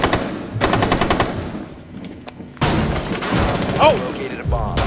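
Rapid bursts of automatic gunfire crackle in the shooter game Rainbow Six Siege, two loud volleys separated by a short lull, with a player talking over the shots.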